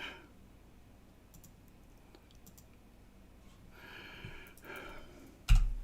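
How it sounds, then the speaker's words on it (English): A microphone drops onto a computer keyboard, a thumping clatter near the end preceded by scattered key clicks and quiet handling noise, no talk. "my microphone dropped on top of my keyboard"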